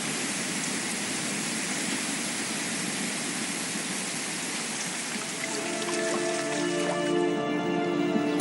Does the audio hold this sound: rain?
yes